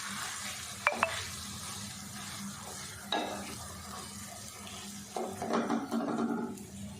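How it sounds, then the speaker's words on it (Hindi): Suji halwa stirred in ghee over a low flame, with soft scraping strokes of a spoon against the pan and a faint sizzle, plus a few clinks and louder stirring toward the end. "ये जो साइडों से लगता है इसको भी उतारते जाना और स्लो आंच पे इसको पकाते जाना है"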